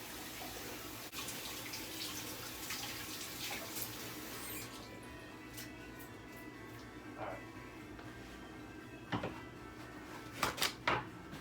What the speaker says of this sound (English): let's get the hands washed